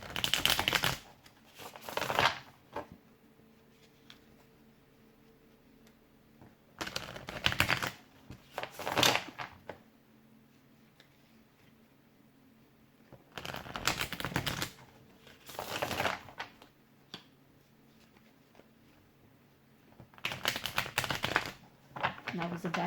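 A Prism Tarot deck is shuffled by hand in repeated bursts of crisp riffling and snapping cards, each flurry lasting a second or two with quiet gaps between, close and fairly loud.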